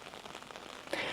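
Rain falling in Dinant, Belgium, a soft steady patter that swells into a louder, closer burst of hiss near the end.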